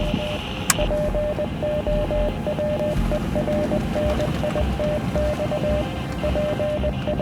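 Morse code radio signal: a steady, evenly spaced pattern of short and long beeping tones keyed over constant hissing static and low rumble, ending with no voices.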